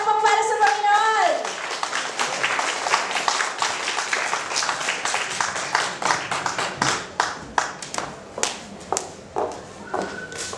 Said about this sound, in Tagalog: So malakas na palakpak para sa Panginoon!